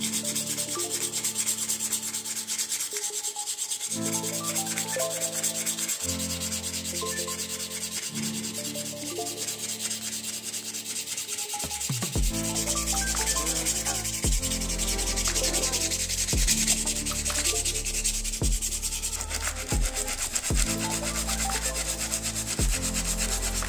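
Steady, continuous rasping of sandpaper rubbed over the wooden handle of an Opinel No.9 folding knife during a restoration, running without pause over a tonal music bed.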